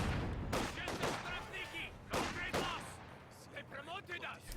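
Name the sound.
rifle grenade hit in video game Company of Heroes 2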